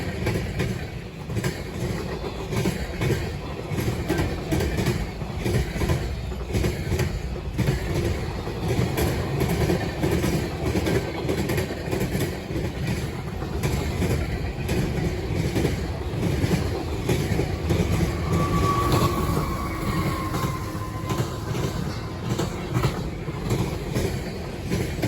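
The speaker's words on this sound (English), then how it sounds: "Like a lot of the CSX trains today, M367 had an engine up front and one in the middle." A long CSX freight, M367, rolls past with a lead locomotive and a mid-train engine, its steady rumble and wheel clatter holding loud and close throughout, with a brief wheel squeal rising near the end.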